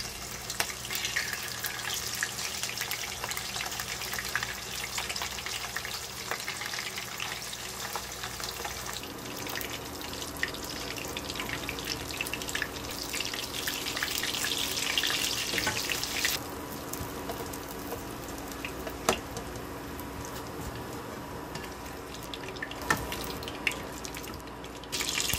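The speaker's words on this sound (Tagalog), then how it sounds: "iprituin naman natin ngayon" Halved tofu frying in hot oil, a steady crackling sizzle that carries on throughout, growing busier and brighter partway through, with no talk.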